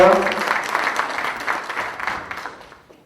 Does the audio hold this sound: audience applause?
yes